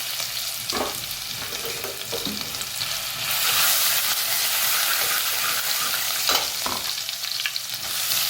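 Okra frying in oil with fenugreek, garlic and green chilies, a steady loud sizzle with occasional stirring scrapes, swelling slightly midway and continuing alone without talk.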